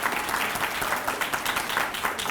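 A crowd claps steadily for Councilwoman Lee Seaman at an inaugural address, a dense, moderately loud patter of many hands with no voices over it.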